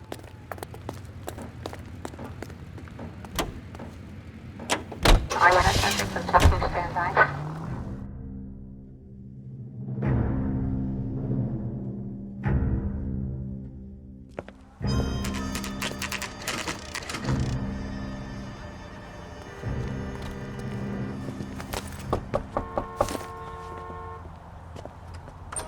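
A car is driven through the city streets in the L.A. Noire video game, with low engine rumble, a few short horn toots and scattered background traffic noises, fairly quiet overall.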